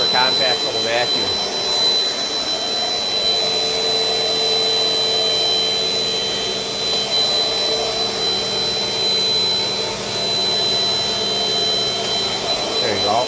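A compact Dirt Devil Dynamite Plus vacuum cleaner runs steadily, a loud constant whine and airy roar close to the microphone with small shifts in pitch as it moves.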